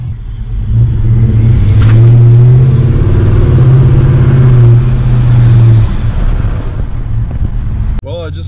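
A 5.3-liter V8 truck with a 5-inch exhaust accelerates hard with a deep, loud rumble that holds and then eases off, heard from inside the cab with wind noise and a sharp knock near the end.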